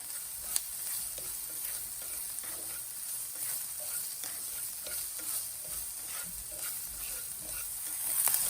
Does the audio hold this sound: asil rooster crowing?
no